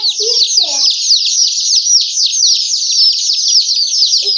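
Chicks chirping nonstop, a dense high-pitched peeping chorus close by, with a few brief human vocal sounds at the start and end.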